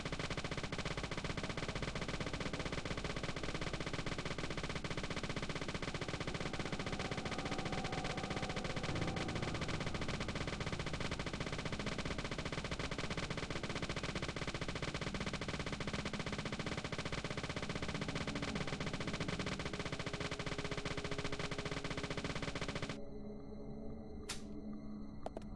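Nonstop automatic gunfire from an infinite-ammo weapon in Deadly Premonition rattles loud and dense for most of the stretch, then cuts off abruptly, leaving a few sparse clicks.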